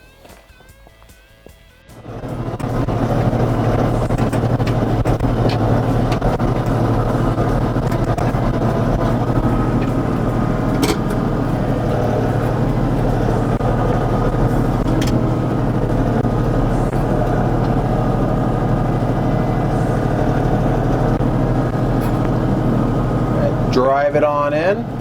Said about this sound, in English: So I'm gonna go grab the tractor.